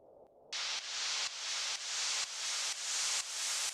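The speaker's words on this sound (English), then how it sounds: "we need a long building white noise riser" Broadband white noise riser for a tech house track, starting abruptly after a brief pause and pulsing in repeated swells that each build slightly louder before cutting, steady and bright with no voices.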